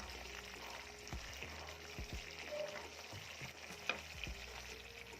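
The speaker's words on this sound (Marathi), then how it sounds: "तर पूर्ण तूप बाजूला होईपर्यंत हे परतत राहायचं आहे" Ghee simmers in a pan, a soft steady sizzle broken by several scraping stirs of a spoon against the pan, close and fairly quiet with no talking.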